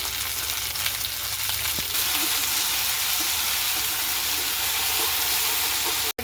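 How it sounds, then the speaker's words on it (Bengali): Okra frying in a pan with green chilies and salt, a steady broadband sizzle running close and continuous throughout, ending with a brief cut at the end. "ঢেঁড়স ভাজি করা দিচ্ছি, নেড়ে দিচ্ছি, ঢেঁড়সটা দিয়ে দিচ্ছি, কাঁচামরিচ দিয়ে দিচ্ছি"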